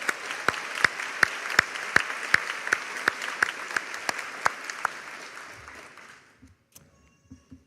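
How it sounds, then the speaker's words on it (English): A round of applause at the MGA fall graduation ceremony, steady dense clapping with sharp individual claps standing out, fading gradually before ending in quiet with small scattered sounds. "Please join me in a round of applause in appreciation of our MGA Foundation."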